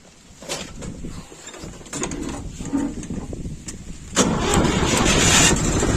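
A tractor engine in a village yard cranks and catches, then settles into a rough, loud idle that swells and holds steady toward the end, with no speech over it.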